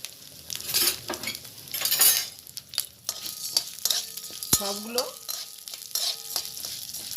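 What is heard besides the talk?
chana dal, urad dal and chillies frying in pan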